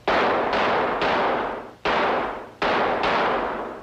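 Six sharp, loud gunshots fired in two quick salvos of three, each crack ringing out and decaying before the next, with a short pause between the groups.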